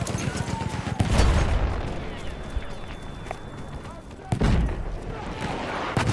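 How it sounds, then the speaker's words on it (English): Battlefield 1 battle din, with heavy explosions and rattling gunfire. Loud booms land early and again later over continuous rumbling combat noise, while someone talks over it. "Well, that's a lot of explosions."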